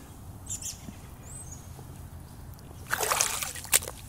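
Wading through an 18-inch-deep flooded swamp in Huntsville, Alabama, with a few soft sloshes early on, then a louder burst of splashing water near the end, faint birdsong in the background.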